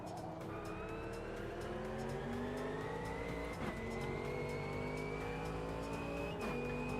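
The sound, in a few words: Porsche car driving in a racing video game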